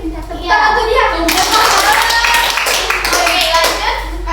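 A classroom of children clapping for a classmate who answered well, a loud burst of many small hands that begins after a moment and keeps going, with children's voices and chatter mixed in.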